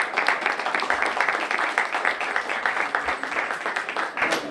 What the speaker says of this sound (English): So let's have a round of applause.